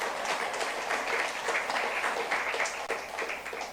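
A church congregation at a youth worship service applauds, a dense steady patter of many hands clapping at moderate distance, heard alone without talk.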